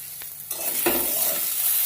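Eggplant fries in a pan, a steady close sizzle that swells after a brief stir, with no voices.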